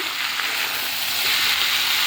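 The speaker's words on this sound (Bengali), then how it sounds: "এবার উচ্ছে ভাজাটা করব উচ্ছে ভাজা করব" Steady, close sizzling of bitter gourd frying in hot oil in a pan, a continuous crackling hiss that swells slightly toward the end, with no voices.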